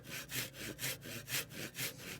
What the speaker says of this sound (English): Trying to cut with a flat saw so I don't hit that shoulder